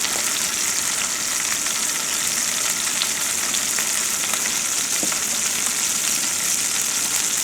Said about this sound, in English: I'm going to saute those onions.